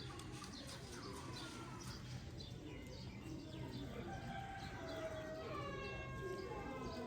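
Ferozpuri breed female pigeons coo in a steady murmur alongside other bird calls, a faint siren-like tone and voices in the background.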